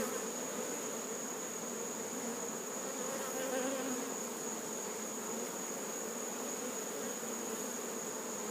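Honey bees buzz steadily throughout a hive frame being inspected, a dense continuous drone of many wings close to the listener, with no talking over it.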